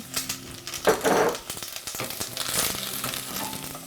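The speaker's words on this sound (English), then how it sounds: "And then you want to add those sliced carrots that we prepared. Careful, because it is popping a little bit." Sliced carrots hit melted butter and ginger in a pan with a burst of loud popping and sputtering, settling into steady frying crackle with faint utensil clicks.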